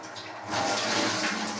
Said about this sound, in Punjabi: ਆਪਾਂ ਦਾਲ ਨੂੰ ਨਾ ਸਮਾਰ ਕੇ ਧੋ ਲਾਂਗੇ ਪਾਣੀ ਕੱਢ ਲਾਂਗੇ ਇਹਦੇ ਵਿੱਚੋਂ